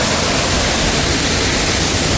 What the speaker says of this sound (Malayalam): ആനക്കുഴി വെള്ളച്ചാട്ടമാണ് ഇത് കേട്ടോ ആനക്കുഴി വെള്ളച്ചാട്ടം